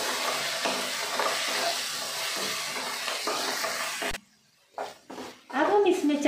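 Rice mixture being stirred in a pan with green chili sauce, red chili sauce and black pepper for veg fried rice, a steady scraping sizzle for about four seconds, then quieter separate stirs with short gaps.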